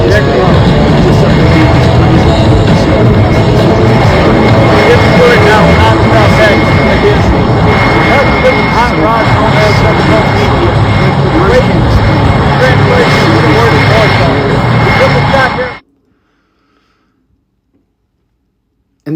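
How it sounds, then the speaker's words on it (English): Stunt planes trailing smoke fly past at an airshow, producing a loud, continuous engine roar and rushing noise that cuts off abruptly near the end. "And then these are some of those stunt planes."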